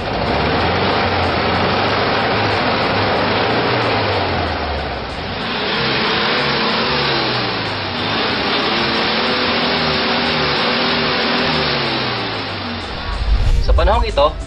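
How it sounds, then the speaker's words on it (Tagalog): The engine of a 40-year-old car runs loud and close, a steady droning hum that dips slightly midway and then picks up, with a rougher burst near the end, no talking. "Yan po ang tunog ng ating 40-year-old na makina,"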